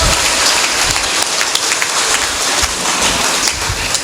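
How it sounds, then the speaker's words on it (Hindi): Loud, sustained applause from a large crowd at a spiritual discourse, dense clapping that fills the whole stretch without letting up. "ताली बजा दो जोरदार"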